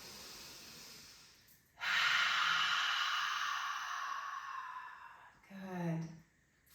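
A yoga class takes a deep breath: a long, loud, close exhale swells and fades, then a shorter breath follows.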